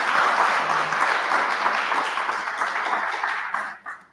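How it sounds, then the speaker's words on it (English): Applause from the audience at a student pitch competition fills the room evenly for a few seconds, then thins and fades away at the close. "So let's clap for him."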